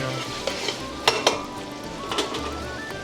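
Bacon and smoked garlic frying in a pot for a porter Irish stew, a steady close sizzle with a few sharp utensil clinks and stirring scrapes against the pot.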